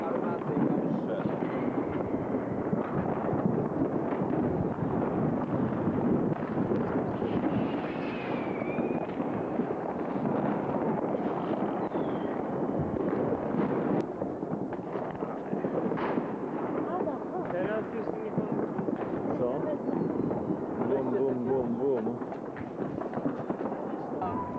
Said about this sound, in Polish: Ja ci powiem, że ktoś chyba z armaty i tam strzela.